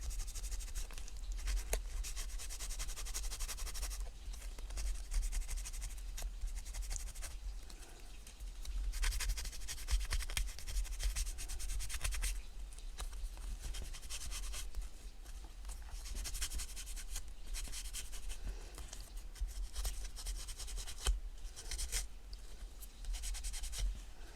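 A pencil traces around the outline of a scrapbooking card. It makes a soft, continuous scratching and rubbing that is faint and close, with small pauses.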